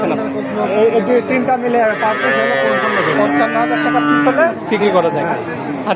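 Holstein Friesian heifers mooing at a busy livestock market, with several drawn-out, loud moos rising and overlapping through the clip while people talk and chatter nearby.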